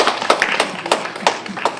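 An audience at a Coquitlam all-candidates debate gives a sparse, uneven round of clapping: a handful of sharp, separate hand claps over a couple of seconds rather than a full ovation.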